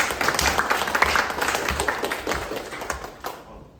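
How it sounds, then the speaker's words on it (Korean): Audience applause welcoming a student presenter at a conscience forum, a steady wash of many hands clapping that holds for several seconds and fades away at the end. "정대균 학생은 큰 박수로 맞이해 주시기 바랍니다"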